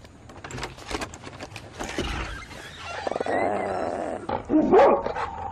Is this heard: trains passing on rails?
no